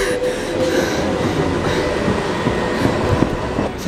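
A tram rolls past up close on a city street, a steady loud rumble of wheels on rails with faint clicking and a thin squeal running through, and no voices over it.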